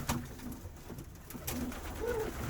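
Pigeons cooing in a loft on a cold day, soft low repeated coos from a few birds close by, with faint rustling and occasional clicks.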